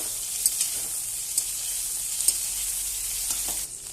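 Okra and potatoes fry in oil in a pan with a constant bright sizzle, while a stirring utensil scrapes and clicks against the metal about once a second.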